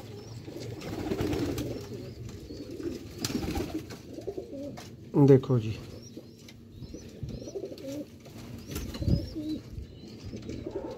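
Teddy pigeons cooing in a loft, soft repeated coos with a few brief chirps and wing sounds over a low background hum, with someone speaking briefly.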